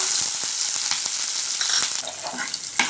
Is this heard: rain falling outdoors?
no